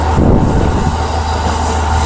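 A steady, loud rumble of an early-morning first train running along the coast between Hachinohe and Kuji in Iwate, with heavy low-frequency roll and wheel noise filling the whole clip.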